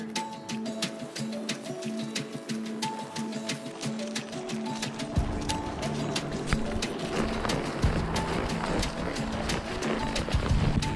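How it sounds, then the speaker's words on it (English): Horses walking on a sunset trail ride across a large windswept field on a cloudy fall day, with steady clip-clop hoofbeats and a tonal hum running throughout, the hooves growing busier and louder in the second half. "our guide Sean helped us mount our horses, and we headed off for a sunset trail ride"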